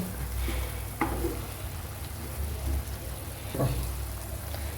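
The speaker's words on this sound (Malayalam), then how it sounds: "അപ്പോൾ തിളച്ചിട്ടുണ്ട് കേട്ടോ ഒന്ന് ഇളക്കി കൊടുക്കുകയാണ്" Crab curry with tamarind boiling in a pot, a soft bubbling hiss with a few scraping stirs of a spoon against the pot, fairly quiet and close with no talk.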